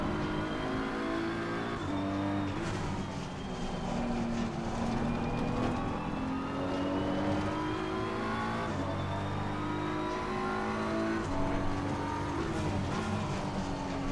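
A race car in Assetto Corsa Competizione runs continuously with a loud, steady engine note that rises and falls through gear shifts, heard alone without talk.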